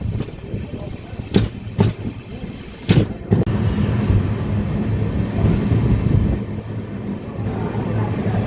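The Amrit Bharat Express pulls out of the station on the Trichy to New Jalpaiguri line. A few sharp clanks come first, then a loud, steady rumble of wheels and carriages builds close by, with voices faintly underneath.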